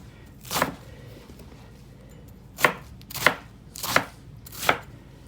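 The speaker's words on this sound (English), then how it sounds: "We'll cut it up." A knife chops through washed iceberg lettuce on a cutting board in a kitchen lab: one crisp cut, a pause, then four more evenly spaced chops, close and clear.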